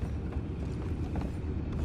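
Horse hooves clip-clop in the video game Red Dead Redemption 2, a muffled, steady stream of hoof falls under a dense low rumble with no talk.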